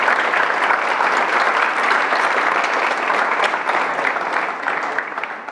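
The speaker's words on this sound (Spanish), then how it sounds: "por eso les pido un aplauso a ustedes y a los mentores que tuvieron en las últimas semanas" An audience at a hardware hackathon event gives sustained, dense applause, steady and full for several seconds before slowly tapering off, with no talking over it.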